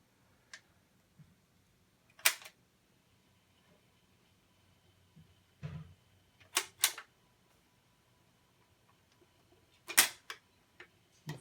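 A BSR C129R2 record changer cycling through a stack of six 7-inch 45 RPM singles gives sparse mechanical clicks and clacks, single ticks and quick double knocks spaced seconds apart over a faint low hum, fairly quiet and close.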